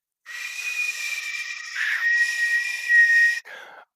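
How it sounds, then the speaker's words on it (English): A person whistles one long, loud, steady tone close up, holding it for about three seconds with a slight waver, then adds a short breathy whistle at the end. "One in the chat if you heard that fucking whistle."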